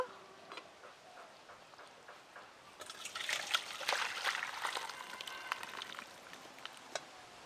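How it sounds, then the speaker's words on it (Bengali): Boiled mixed vegetables and thin, watery broth poured out of a pot, a soft trickle swelling into a steady liquid splash and pour that runs on near the end. "ঝোল সমেত ঢেলে নেব।"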